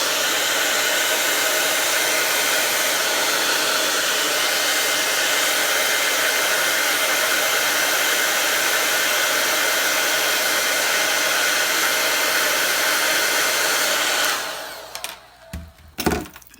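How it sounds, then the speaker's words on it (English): A hair dryer blows steadily and loudly at close range while drying mascara-coated eyelashes, a constant whooshing roar lasting about fourteen seconds before it is switched off and a few soft handling knocks follow. "I just blow dry them one more time"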